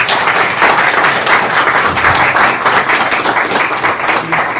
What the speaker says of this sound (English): So, Dr. Mitchell, we want to give you a round of applause for the work that